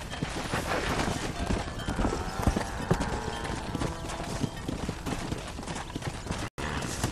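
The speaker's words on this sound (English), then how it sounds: "Hit your horse and wait for me by the stable." Horse hooves clip-clop steadily at a ranch stable in the Red Dead Redemption video game, a continuous rhythmic trotting with a brief cutout near the end.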